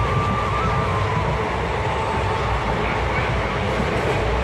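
A train runs past the platform at Balasore, heard from on board as a loud, steady, continuous rumble and roar with faint wheel clatter and no pauses.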